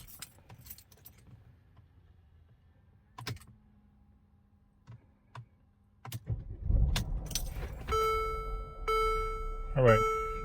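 A car started with its key in the ignition: keys jangle and click, then the engine cranks and catches and settles into a steady idle while dashboard warning chimes sound repeatedly.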